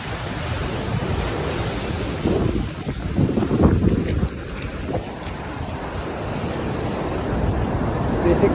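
Sea waves at Onjuku beach, Japan, wash and rumble against a backdrop of steady wind buffeting the microphone, with a few heavier surges in the middle.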